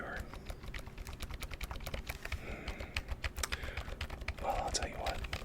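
Quiet, close keyboard typing with rapid uneven clicks and clacks throughout, in a calm ASMR setting, with a soft voice briefly murmuring over the keys.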